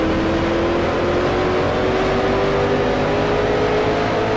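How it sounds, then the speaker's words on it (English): Race cars in the Grand Prix Legends racing sim: a loud, steady engine roar with a slowly rising pitch that fills the whole stretch, with no talk over it. "We can hear, unfortunately can't see the cars blasting by on the left there"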